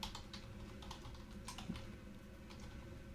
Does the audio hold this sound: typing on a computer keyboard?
yes